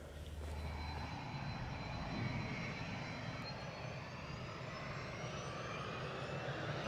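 A completely refurbished 170 giveaway airplane passes in a strong wind, its engine a steady broadband drone with a faint rising whine and heavy wind rumble underneath.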